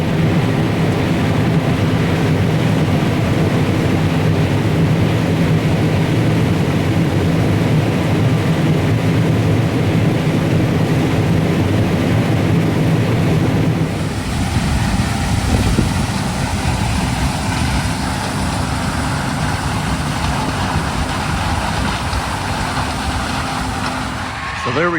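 A combine harvester runs steadily and loud while shelling rows of corn at the start of harvest, its engine and machinery drone continuous throughout, with the tone shifting partway as the machine works.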